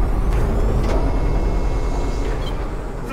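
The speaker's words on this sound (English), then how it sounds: "Landing gear retracted." A low, loud mechanical hiss and rumble from a spaceship's landing gear retracting in Elite Dangerous, a dense broadband whoosh with a faint high tone, fading slightly toward the end with no one talking.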